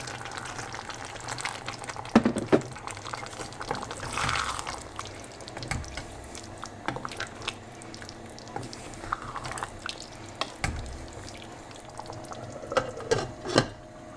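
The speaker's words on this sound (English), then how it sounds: "I'm going to add a little bit more, and this is hot water from the kettle." Hot water from a kettle pours into a pan of chickpea curry, bubbling and splashing with a steady liquid gurgle and scattered clinks, fairly close and without talk.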